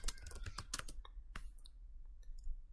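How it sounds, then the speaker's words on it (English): Keystrokes on a computer keyboard while a command is entered during a Windows 11/10 password reset: a quick burst of close clicks and taps, then a few sparse, fainter presses. "Then I'm going to type this command."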